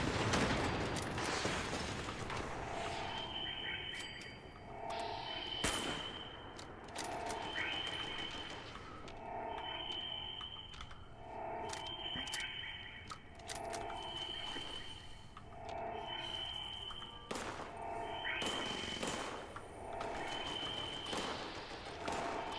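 Gunfire in Fallout 76, repeated bursts of shots at a fairly regular rhythm, each with a sharp crack and brief echo, fairly quiet overall with no talking.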